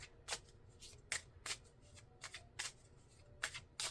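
Oracle cards being shuffled by hand, heard up close as a series of crisp, papery riffling bursts at an irregular pace, with no voices.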